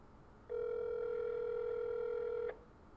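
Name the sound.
telephone ringing on a call to Popeyes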